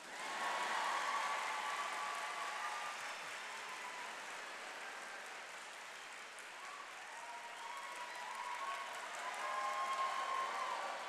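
Sustained applause from a large convention audience greeting a speaker, a thick, even roar of clapping that holds for the whole stretch with slight swells at the start and end.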